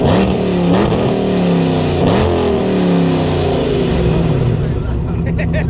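A wide-body Dodge Charger with a Hemi V8 revs hard nearby, the engine climbing and falling through two throttle blips before settling into a loud, rumbling idle, with voices talking underneath.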